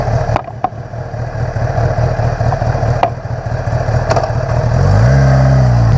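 A 2015 Kawasaki Ninja ZX10R sport bike rides slowly, its engine holding a steady low drone with a few sharp clicks, then a rising rev near the end.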